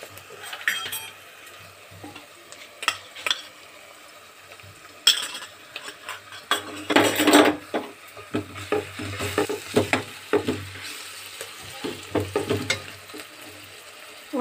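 Sliced onions fried light pink-brown with garlic-ginger paste, stirred with a spoon in a pan for karela sabzi; intermittent scraping and clinking over a soft sizzle, with a busier burst of stirring midway.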